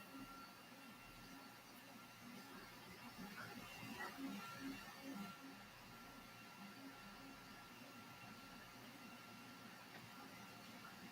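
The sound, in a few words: 3D printer running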